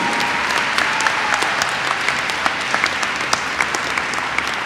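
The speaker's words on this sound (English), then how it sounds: "Let's give a big round of applause for our students." An audience at a school district event gives the students a big round of applause, with loud, continuous clapping from many people and a few sharper individual claps standing out.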